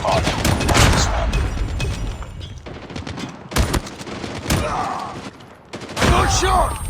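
Shotgun fire in Call of Duty, with heavy bursts of gunfire and sharp blasts packed closely together over seven seconds, loud and dense, with game voices shouting over the shooting.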